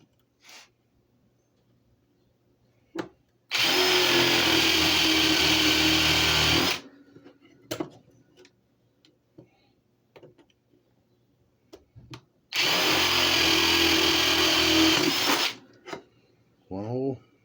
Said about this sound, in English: Now we just gotta drill 4 more holes.